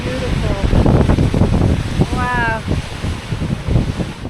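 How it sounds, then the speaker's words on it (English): Broad, steady rushing roar of Salto Chico del Truful, the smaller of the two Truful River waterfalls in Chile's Conguillío National Park, loud and close throughout, with a brief voice rising over it midway. "This is Salto Chico del Truful, the smaller of the two Truful waterfalls."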